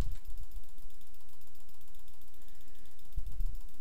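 A chainsaw weapon in Project Zomboid runs with a continuous mechanical, rattling drone, steady and fairly loud throughout with no speech.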